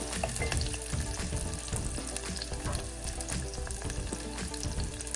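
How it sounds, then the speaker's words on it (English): Tomatoes sautéing in ghee in a glass vessel for lemon and ginger rasam, a dense close crackling sizzle with busy stirring clatter throughout, no speech. "Just saute it for just few seconds and I'm going to add the tomatoes alongside."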